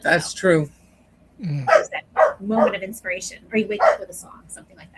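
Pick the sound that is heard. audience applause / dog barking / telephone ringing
dog barking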